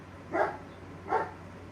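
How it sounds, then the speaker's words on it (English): A neighbour's dog next door barks twice, evenly spaced and at moderate distance, over a quiet garden background. "the asshole dog next door can't be freaking quiet"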